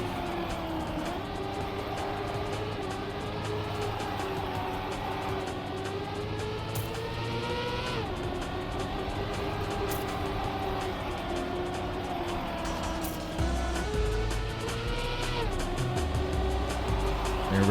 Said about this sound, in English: let's watch Nitro Seeks drive that car to the finish line